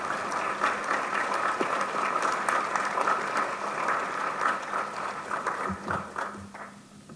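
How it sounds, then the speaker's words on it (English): Audience applause at a 2021 Plymouth High School commencement ceremony, a steady wash of clapping from a large crowd that holds evenly for about seven seconds and thins slightly at the end. "Let's give one final round of applause to Mr. Daniel Lamb"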